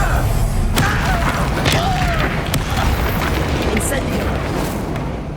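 A Confringo explosion spell from Hogwarts Legacy bursts with a loud, deep boom and rumbling blast over continuous dense battle noise, with sharp cracks and debris-like clatter scattered through.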